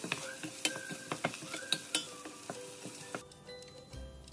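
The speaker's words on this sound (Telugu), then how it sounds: "ఆనియన్స్ త్వరగా ఫ్రై అవడం కోసం సాల్ట్ యాడ్ చేసుకున్నాను." Onions frying with salt in a pan, a steady crackling sizzle with repeated close stirring scrapes and utensil taps, ending in a brief lower clatter.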